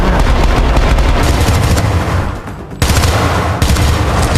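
Dense, loud gunfire from the Syndicate video game, a continuous rapid fusillade of shots with heavy booming bursts, broken by a brief lull before the firing resumes.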